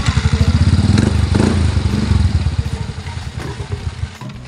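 A Yamaha Mio i 125 scooter with an upgraded CVT, fitted with a new pulley set, clutch lining and roller weights, starts up close by. A rapid pulsing putter settles and fades as the engine dies down near the end.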